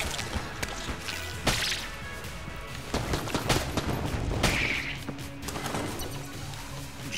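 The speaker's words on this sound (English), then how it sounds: "I just set, like, the entire room on fire." Whole room set ablaze in the roguelike shooter Enter the Gungeon, a dense, steady crackle of flames mixed with whip-like gunfire, sharp hits and whooshing effects, busy and continuous throughout.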